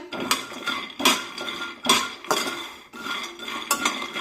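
Peanuts dry-roasting in a kadhai over a medium flame, a spatula scraping and clattering against the metal pan in regular rhythmic strokes, close and fairly loud with no talking.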